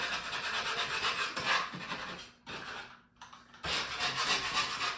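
A scraper rasps leftover wallpaper off a wall in continuous close, scratchy strokes, with one brief pause near the middle.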